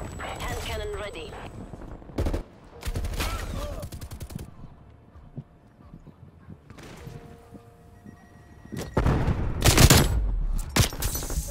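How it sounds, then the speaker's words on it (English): Hand cannon gunfire in a video game: loud, sharp bursts of shots at irregular intervals, with a heavy cluster near the end, under and between people talking. "Hand cannon ready."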